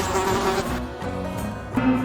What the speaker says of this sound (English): The housefly may look small and harmless, but it's one of the dirtiest insects